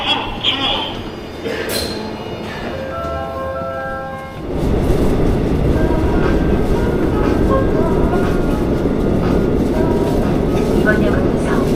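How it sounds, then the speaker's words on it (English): A Seoul subway train rumbles along the track toward Seoul Station, a loud continuous roar building as it gathers speed, with voices and a brief tonal chime early on. "ride the train one stop to Seoul Station"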